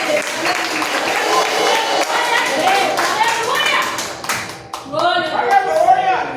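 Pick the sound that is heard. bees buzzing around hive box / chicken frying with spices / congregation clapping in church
congregation clapping in church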